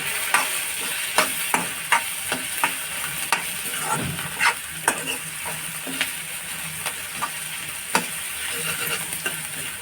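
Onion and goda masala fry and sizzle in a pan while a spoon stirs them, knocking against the pan in steady, distinct clicks and scrapes above a continuous close hiss.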